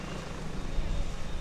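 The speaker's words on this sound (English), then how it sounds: "Hackensack UMC over here is warming up their Air Med 1 helicopter." The Hackensack UMC Air Med 1 helicopter warms up at an airshow, a continuous broadband rotor and engine rumble, steady and moderately distant, without a break.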